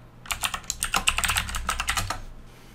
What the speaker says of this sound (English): Let's go ahead and type in something.